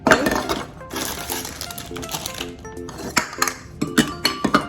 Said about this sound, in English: So I'm gonna put this 1 cup of chocolate chips first